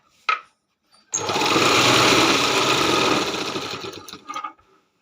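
Sewing machine running steadily for about three seconds, stitching layers of a homemade quilt made from old recycled sarees, with brief clicks before and a short stop-start burst at the end.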